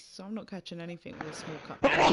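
A person talks, then lets out one sharp, loud sneeze at the end, close to the microphone.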